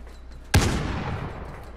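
A single loud, close gunshot in Call of Duty Modern Warfare, with a sharp crack and a rumbling tail that fades over about a second.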